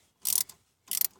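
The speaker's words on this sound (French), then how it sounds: "avec une douille de 8 là, on démonte la première connectique" An 8 mm socket wrench ratcheting while removing a starter connector on a Renault Dauphine, two short close metallic bursts of clicking separated by a brief pause.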